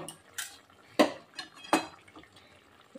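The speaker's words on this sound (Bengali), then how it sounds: "এখন আমি আলুগুলোকে একটু ম্যাশ করে দেবো।" Boiled potatoes and peas are mashed in a kadai, heard as a few sharp metal-on-metal clanks from the utensil hitting the pan, with soft squishing and scraping between them, close and alone.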